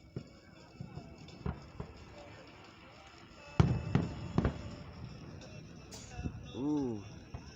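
Fireworks at a 4th of July Independence Day show in Van Wert, Ohio, go off in a run of sharp booms and crackles, some distant, some louder, with an excited voice heard faintly near the end.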